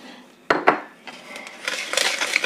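Eggs are stirred into carrot cake batter with a couple of sharp utensil knocks against the bowl, followed by soft, wet scraping and mixing noises close by; no speech.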